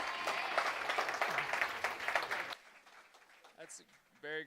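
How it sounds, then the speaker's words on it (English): Audience applause after a talk, a dense wash of many hands clapping for about two and a half seconds, then cutting off abruptly into a quiet room with a few faint voices. "Everyone give Sergey a big round of applause."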